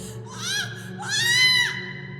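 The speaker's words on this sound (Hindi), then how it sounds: "फिर एक तेज चीख गूंजी।" An old woman screams loudly in a horror tale, two long, wavering, high-pitched cries one after the other. The second is stronger and more drawn out, over a low background hum.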